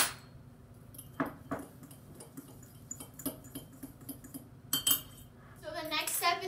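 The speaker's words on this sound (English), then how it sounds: "And then you're gonna mix that up." A utensil mixes a batter of ingredients, including a pinch of salt, in a bowl, giving scattered scrapes and clinks against the bowl. These are soft and close and come in irregular strokes, with a brighter clattering run toward the end.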